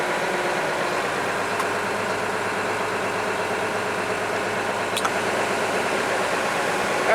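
A Case IH 7120 tractor engine idles steadily and evenly with its air conditioning switched on, a constant mid-level rumble with a faint blower hiss, heard alone without talk.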